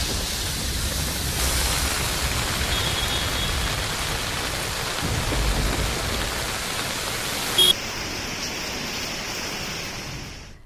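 Rain falls steadily on Ahmedabad as a continuous broadband wash with no pauses, with a brief click near the end before it carries on slightly thinner.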